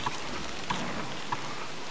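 Steady rain in the survival video game Don't Starve, a soft continuous hiss of falling drops with a few faint brief clicks, alone and fairly quiet.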